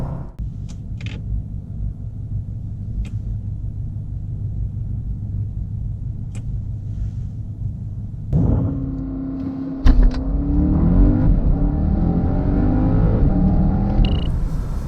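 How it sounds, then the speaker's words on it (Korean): Bentley Flying Spur V8 launching hard from a standstill: a low steady rumble at idle, then at about eight seconds the engine note swells into a loud, rising acceleration roar that climbs through the gears and holds to the end, with no talking. "벤틀리 플라잉 스퍼 과연 어느 정도의 발진 가속 성능을 보여주는지 볼까요?"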